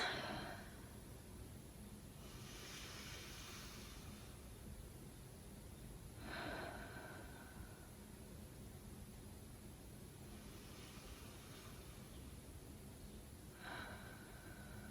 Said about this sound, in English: Take 5 deep breaths.